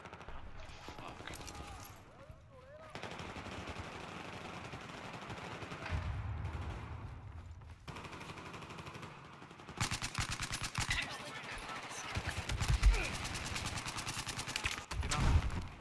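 Bursts of gunfire from a tactical shooter match, with repeated shots and rapid volleys that grow louder and denser in the second half, mixed with players talking throughout.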